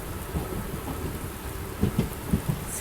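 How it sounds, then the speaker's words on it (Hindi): Heavy monsoon rain pours down outside a moving Sealdah–Ballia Express train, a dense steady hiss with low rumbling thunder and a few heavier thumps near the end, no voices. "मैं बाहर निकल नहीं सकता क्योंकि ज़बरदस्त बारिश जो है वो हो रही है।"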